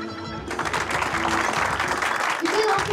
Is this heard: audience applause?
yes